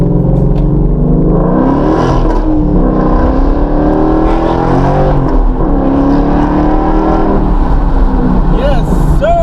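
A Ford 5.0 V8 with an O/R X-pipe exhaust rumbles loudly up close, its deep drone rising and falling through several revs while voices talk over it.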